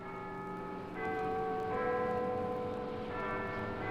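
Cathedral church bells ringing, several overlapping sustained tolls with new strikes entering about every second, moderately loud with a ringing, slightly distant tone and no talk.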